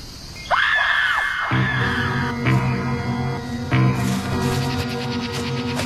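A high, wavering scream rises sharply near the start and then breaks off, followed by low rumbling and a couple of dull thuds.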